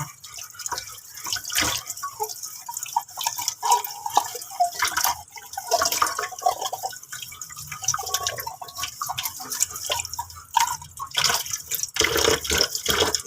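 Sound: washing a stainless steel cup with water

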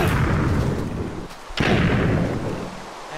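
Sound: explosion in Minecraft video game

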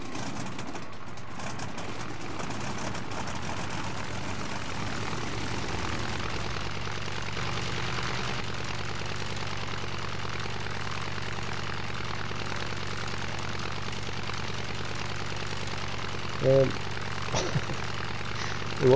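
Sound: boat engine starting and running, from video game Stranded Deep

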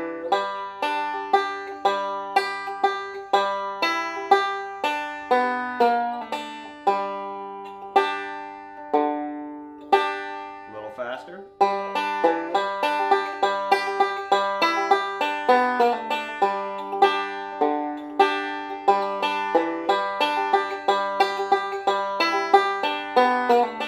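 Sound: bluegrass banjo tag lick played in full

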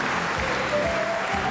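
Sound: studio audience applause for the karate referees

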